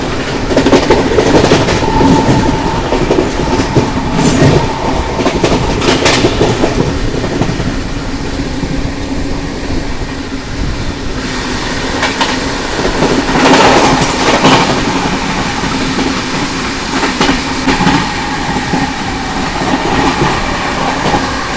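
The 12276 New Delhi–Prayagraj Humsafar Express runs at high speed on an Indian rail line, overtaking other trains: a loud, continuous rumble with rhythmic wheel clatter and occasional sharper clacks throughout, no voices.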